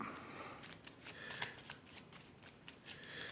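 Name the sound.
shuffling the draw pile of cards in a board game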